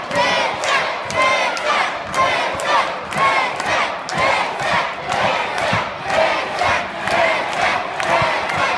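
Wrestling arena crowd cheering and chanting in loud rhythmic waves, roaring voices rising and falling steadily throughout with no clear speech on top.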